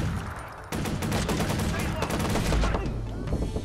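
Gunfire from a gun in the video game Watch Dogs, a dense rapid burst of shots starting abruptly and continuing loud and close for a few seconds.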